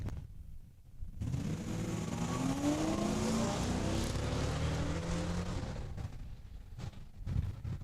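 A 2005 Dodge Magnum and a 2014 Mustang launch down a drag strip at a points race, their engines roaring loud and close, rising through the gears together before easing off as the cars pull away.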